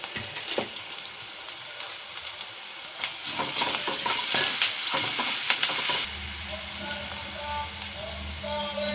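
Salt, ginger garlic paste and turmeric frying in a pan: a loud sizzle swells as the ingredients land and a spoon scrapes and stirs them, and it eases to a softer hiss after about six seconds, with no speech.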